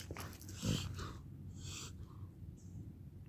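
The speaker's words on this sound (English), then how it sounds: "Stop snorting everything that you come across, buddy." Close, quiet bursts of a dog's sharp nasal snorts and sniffs come in an uneven series of short puffs, with soft breathing between them.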